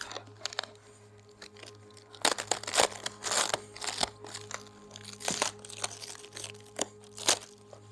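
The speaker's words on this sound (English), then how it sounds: "All right, let me get the tape off." Tape peeled and pulled off the packaging of a carbon fiber part for a Mercedes E63 AMG S, close crinkling and tearing in irregular bursts with plastic rustle and a few sharp rips, no talk.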